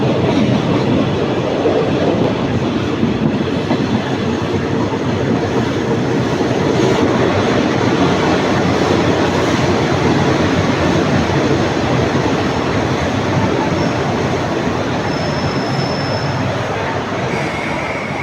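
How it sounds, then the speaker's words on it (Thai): Train no. 75 from Bangkok to Nong Khai rolls into Udon Thani station with a steady, loud rumble of wheels and carriage noise, heard from on board. "ตอนนี้ก็กำลังจะเข้าสู่สถานีอุดรธานีครับ"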